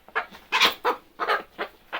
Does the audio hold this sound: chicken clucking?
yes